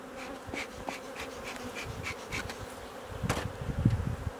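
Honey bees buzzing around an opened hive full of capped brood frames, a steady close drone of many insects with individual bees zipping past the listener.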